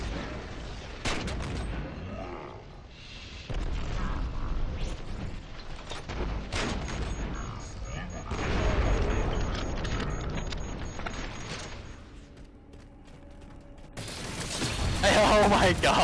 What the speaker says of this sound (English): The guy blew himself up.